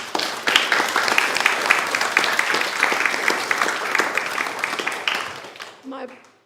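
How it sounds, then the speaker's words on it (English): An audience clapping at a Holy Ascension church service at the Peace Embassy: dense, sustained applause for about five seconds that fades out, followed by a brief voice near the end. "Let's give an applause to that"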